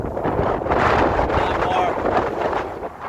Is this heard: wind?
yes